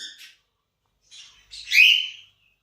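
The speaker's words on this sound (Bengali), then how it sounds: "এখানে আছে আপনার প্যাচলেসের পার্ল ককটেল।" Pet cockatiels, including a patchless pearl, give a few short, sharp chirping calls close by, with brief silences between them and a louder, longer call near the end.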